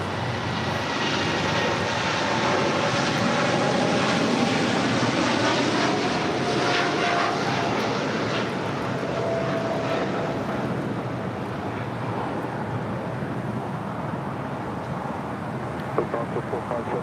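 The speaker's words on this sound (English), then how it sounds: "This is Lufthansa 457 Heavy taking off to Frankfurt, Germany on 747-8 Intercontinental" A Lufthansa Boeing 747-8 Intercontinental jet takes off at Los Angeles airport, its engines a loud, steady roar that holds throughout with a slight fade toward the end.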